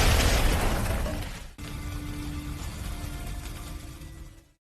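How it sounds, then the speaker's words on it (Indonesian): A camp blows up in a loud explosion with a broad, roaring blast that breaks off abruptly, then a long rumbling tail of burning and debris that fades out. "Mereka pun meledakkan camp tersebut."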